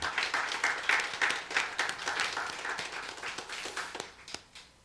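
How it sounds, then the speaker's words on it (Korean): Congregation clapping together in a church during a New Year's Eve worship service, a dense spread of many hands applauding steadily for several seconds before thinning out and fading near the end. "우리 박수로 격려합니다."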